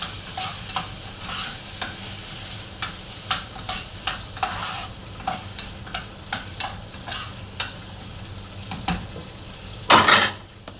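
Vegetables stirred in a hot pan for pinakbet, with repeated scraping utensil strokes over a steady close sizzle of frying, ending in a louder clatter near the end; no talking.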